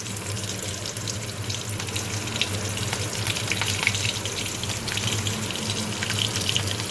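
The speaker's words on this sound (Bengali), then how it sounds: "এবার আমি 3টে কাঁচা লঙ্কা ফোড়ন দিলাম" Green chillies and cumin seeds sizzle steadily in hot oil in a kadai, a dense continuous crackle and hiss with occasional sharper pops, close and fairly loud throughout with no talking.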